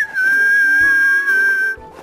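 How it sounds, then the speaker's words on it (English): A clear, steady whistled tone held for nearly two seconds with slight pitch wavering, loud and close, alone without talk. "And whistle to say hello."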